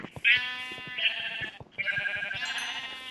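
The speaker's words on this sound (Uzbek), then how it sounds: "Mana qo'y." A sheep in a blocky survival video game bleats several times in quick succession, loud, close and tonal, with sharp clicks from play between the calls.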